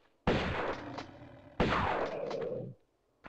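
A shotgun fires in the video game Tomb Raider, two loud, close blasts about a second and a half apart, each with a long roaring tail that ends abruptly.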